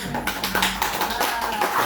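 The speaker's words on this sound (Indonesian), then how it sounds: "Kita beri tepuk tangan dulu." A school class claps hands together in a dense, continuous patter that stays loud and steady throughout.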